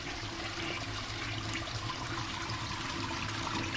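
A toilet flushes in a haunted house video game set in a Japanese property, giving a steady, moderately quiet rush of running water that continues evenly throughout.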